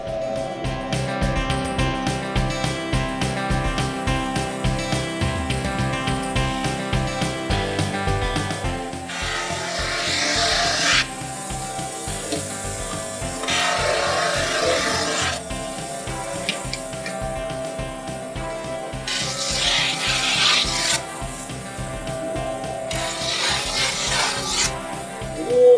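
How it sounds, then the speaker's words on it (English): A power tool grinds the metal edges of a snowboard, giving a long, rough, rasping drone that surges and eases in several strokes, fairly close and loud, with no talk over it. "He's gonna take the snowboard and grind the edges."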